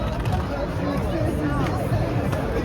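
Dense chatter from a huge Halloween street crowd on Church Street in downtown Toronto, a continuous close hubbub of many overlapping voices with footsteps and movement, loud and packed throughout.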